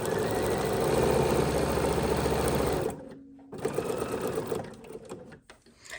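A sewing machine stitches quilting fabric in a fast, steady whir for about three seconds, then stops, leaving quiet handling noises nearby.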